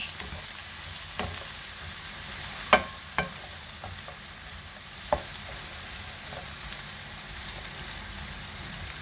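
Onions, peas and hot peppers sauté in a pan for kabak oturtma, giving a steady close sizzle punctuated by a few sharp clinks and scrapes of stirring, with no voices.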